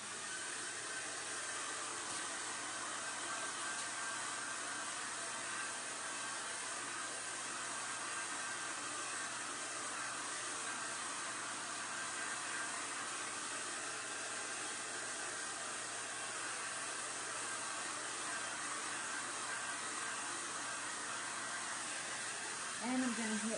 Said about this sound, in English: But I think I'm going to break out the hairdryer.